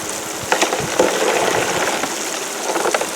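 A creek flows outdoors on a sunny day, with a steady, close, hissing rush of water broken by brief splashy bursts.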